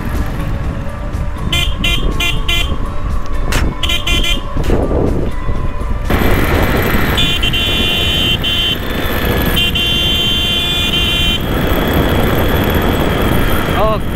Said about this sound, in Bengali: 33-34 চালাইতেছি আর বাইকের সাউন্ড বাড়তেছে